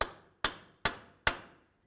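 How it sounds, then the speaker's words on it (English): Four evenly spaced, sharp metallic hammer blows on a punch, each ringing briefly and decaying, as a front axle is driven free of the wheel bearing on a 2007-2012 Nissan Sentra during control arm replacement; close and clear with no talking. "Now grab a hammer and a punch."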